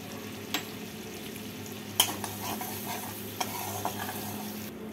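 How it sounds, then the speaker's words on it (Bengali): Hot butter sizzles with dried chilli, cardamom, cinnamon and cloves, giving a steady close crackle with a few sharp taps and stirs against the pan and no talking. "বাটারটাকে ভালো করে গরম করে নিয়ে এর মধ্যে দেব ফোড়ন। দেব একটা শুকনো লঙ্কা, এলাচ, দারচিনি আর লবঙ্গ।"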